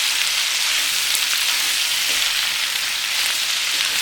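Cabbage, onion and peppers stir-frying over high heat, a loud, dense, even sizzle that hisses continuously with no talking.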